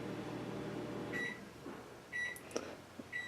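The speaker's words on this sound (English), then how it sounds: "And the microwave's beeping." A microwave oven beeps several times, short high tones in small bursts, over a steady low hum of the room.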